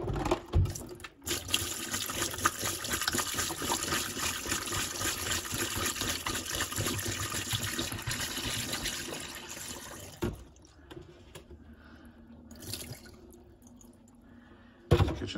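Antifreeze pours steadily into a trailer's kitchen sink drain trap with a gurgling rush for about ten seconds, then stops, leaving faint drips and quiet trickling.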